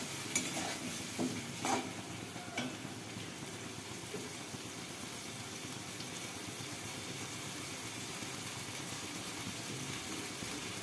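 Pumpkin pieces hit a pan and fry with a steady, faint sizzle, with a few scraping stirs near the start, then a continuous low hiss.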